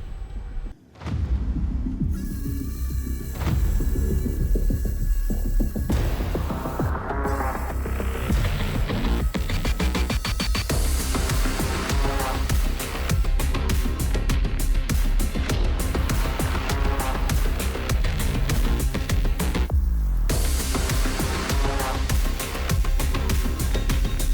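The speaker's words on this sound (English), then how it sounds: "So as you can see, man, smooth, consistent welding, great penetration." A collaborative welding robot runs a weld in a fab shop, a loud, continuous crackling buzz that starts after a brief lull, holds steady with dense rapid sputter, and briefly drops out midway before resuming.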